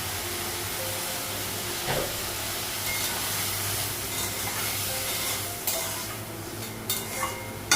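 A steady, loud hiss of sizzling steam fills the scene after water is added to a hot pan of bananas cooking, with occasional stirring clicks and scrapes, close and continuous throughout.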